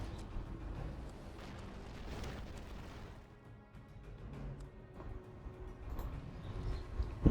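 An Eruption spell goes off in the Battleforge fantasy strategy game, a low, rumbling blast and burst of debris that swells, dips and surges again at moderate loudness.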